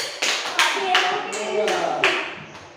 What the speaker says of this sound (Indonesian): Nah, tepuk tangan dulu untuk Jero.